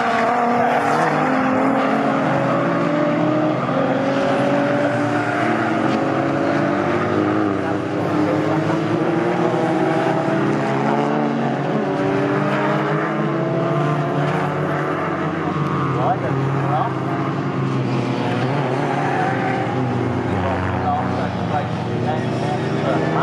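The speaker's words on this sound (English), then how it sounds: "Long should appear first in his Volkswagen Corrado." Racing cars including a Volkswagen Corrado roar around Snetterton circuit in a Classic VW Cup race, a steady drone of engines with shifting pitches throughout, under continuous commentary.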